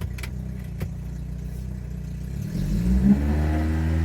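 A Vauxhall Calibra engine idling steadily, then rising in pitch as the car pulls away in first gear, close and fairly loud, with a couple of faint clicks early on.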